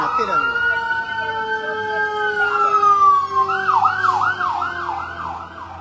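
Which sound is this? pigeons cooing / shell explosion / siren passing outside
siren passing outside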